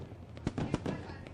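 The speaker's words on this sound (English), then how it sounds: "Lone Wolf fireworks lighting up the sky" Fireworks burst over victory lane at a sprint car race, a quick run of sharp pops and crackles of middling loudness in a noisy outdoor setting.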